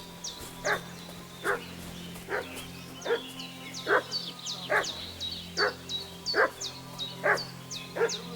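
A dog in the medieval game Kingdom Come: Deliverance II barks at a steady rhythm, about ten evenly spaced barks at moderate distance over a low ambient hum, with no one speaking.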